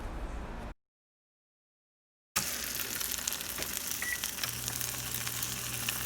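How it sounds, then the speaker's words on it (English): Egg-dipped bread slices for torrijas fry in a tablespoon of hot oil in a pan, giving a steady, soft sizzle that resumes after a brief silent gap. "I'm heating up 1 tablespoon of oil in the pan, and I'm going to coat this really well and then fry it in that oil."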